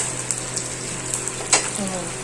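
Dosa batter sizzles on a hot, unoiled stone griddle with a close, steady hiss, broken by a few light taps and a brief scrape.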